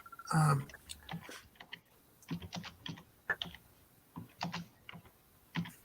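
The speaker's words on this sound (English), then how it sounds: "Who's typing?" Computer keyboard typing in irregular bursts of quick clicks and taps, fairly faint and close, with a louder knock at the start and short pauses between runs of keystrokes.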